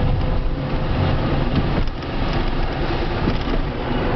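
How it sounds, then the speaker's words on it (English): An electric car with a newly rebuilt motor accelerates up a highway on-ramp, a steady, loud broadband rush of road and wind noise that holds constant with one brief dip, with no talk. "we'll go ahead and hop on the highway here"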